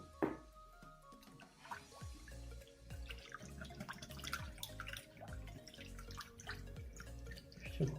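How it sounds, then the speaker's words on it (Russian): A room-temperature egg is beaten in a bowl for belyashi dough, making quick, irregular clicking and tapping strokes that run steadily and quietly with no talk. "Все хорошо взбиваем."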